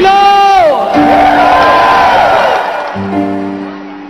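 Crowd at an evangelical church crusade in Colombia cheers and applauds loudly, with whoops and shouts rising through the clip, a sung or shouted voice over it and the roar easing toward the end.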